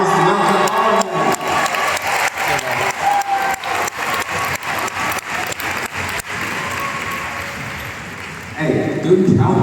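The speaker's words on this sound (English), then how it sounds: "Let's give them a round of applause to welcome all of them." Crowd applauding and cheering to welcome overseas guests from the Philippines, Indonesia and Vietnam: a loud wash of clapping with rhythmic unison beats, fading before a voice speaks at the end.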